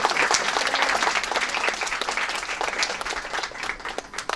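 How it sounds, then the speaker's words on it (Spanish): Audience clapping at a discussion event on Afro-Colombian heritage, dense and continuous applause from a crowd, fairly loud and unbroken, with no one speaking over it. "démosle un aplauso"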